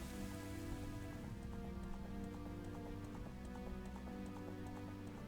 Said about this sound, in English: I can still hear the horse.